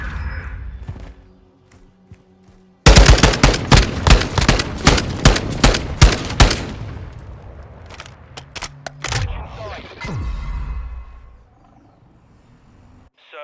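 Rapid helicopter gunfire from a Longbow strike in Call of Duty, a dense, loud burst of repeated shots lasting a few seconds, then trailing impacts and rumbling battlefield noise fading out.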